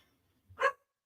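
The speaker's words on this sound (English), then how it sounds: "I have a basset hound and he barks at literally everything all day long." A basset hound gives a single short, sharp bark indoors, preceded by a faint low huff, then silence.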